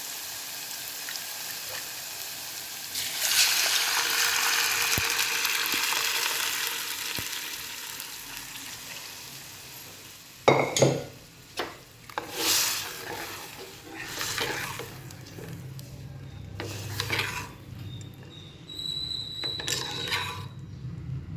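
Urad dal drops into a hot pan and starts sizzling, a steady frying hiss. Later come sharp scraping stirs and clinks of a spoon in the pan, moderately close, with no talk.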